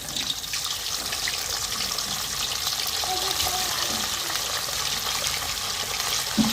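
Fish pieces frying in half a kilo of hot ghee for a masala fish curry, giving a steady, loud, close sizzle and hiss that continues unbroken throughout.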